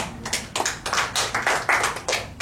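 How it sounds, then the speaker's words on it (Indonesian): A church congregation claps hands in a quick, slightly uneven run of about a dozen sharp claps, close and fairly loud, with no talking over them. "Tepuk tangan dulu."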